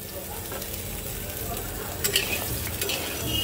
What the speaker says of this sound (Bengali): সবগুলো পটলই সুন্দর করে ভেজে নেব।